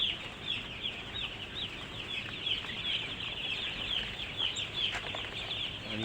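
A flock of young chickens on a farm clucks and chirps in a steady, busy chorus. The sound stays close and fairly even and carries on without pause.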